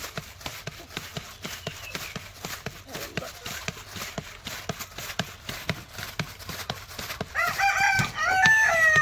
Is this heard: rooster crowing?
yes